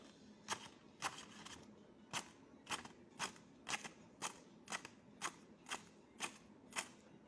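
Scissors making a series of deep parallel snips into combed hair during a deep-cutting haircut, about a dozen crisp, evenly spaced clicks close by with no talk.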